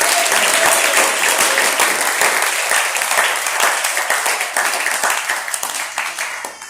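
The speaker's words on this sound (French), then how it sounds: "Est-ce qu'on peut acclamer le Seigneur?" A church congregation at a Sunday worship service bursts into sustained, dense applause, loud and close at first and thinning slightly toward the end, with no speech over it.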